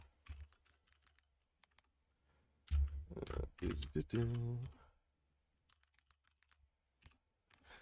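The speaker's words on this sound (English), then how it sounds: "so you don't see all of the things that I'm typing in" Keyboard typing comes as a scatter of soft, close clicks and key taps, with a voice speaking briefly over the middle stretch before the tapping resumes alone.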